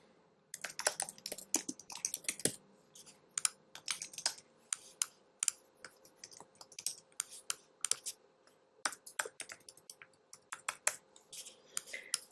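Quick bursts of keystrokes clatter on a computer keyboard while someone fills in a registration form, the taps close and fairly quiet, in uneven runs separated by short pauses.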